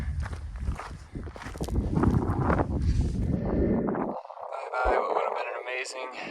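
Strong wind buffets a hiker on a mountain ridge on Telescope Peak in Death Valley, a loud, low, gusty roar mixed with footsteps that drops away after about four seconds into a lighter, fluttering hiss.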